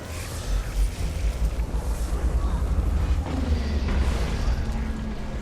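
Heavy cannon fire in a competitive multiplayer video game match, a deep rumbling boom with sustained low-end roar running under the whole stretch, loud and close with no clear breaks.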